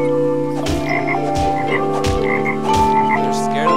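Frogs croak over and over in the video game Toki Tori 2, loud repeated pulses over a steady musical backdrop with no talking.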